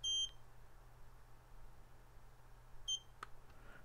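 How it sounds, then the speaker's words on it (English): Two sets of short high electronic beeps from Eachine EV100 FPV goggles, one at the start and another near the end, over a faint low hum in a quiet room. "hold down the top button three times, or till it beeps three times."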